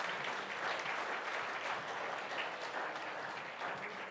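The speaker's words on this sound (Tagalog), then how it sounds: "Palakpakan po natin ang Panginoon." A church congregation applauding during a Filipino worship service, dense sustained clapping from many people filling the room at a steady level throughout.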